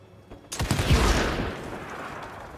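Gunfire in the video game Evil West: a sudden loud burst of rapid shots that booms and then rings out into a fading tail.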